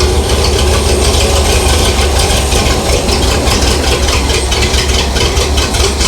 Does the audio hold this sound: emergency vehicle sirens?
no